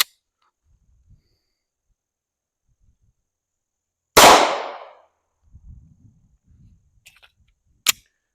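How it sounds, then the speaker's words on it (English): A single loud gunshot from a CZ P-09 Nocturne pistol, a sharp crack with a short decaying tail, followed by quiet handling clicks and a brief sharp tap near the end. "But I'm gonna shoot the last bullet."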